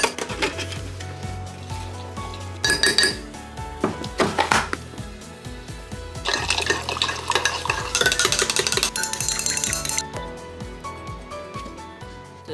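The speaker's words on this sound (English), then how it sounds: "Right, hot chocolate time first." A spoon clinks and stirs against a cup while hot chocolate is being made, with repeated sharp taps and scraping bursts mixed with other kitchen clatter.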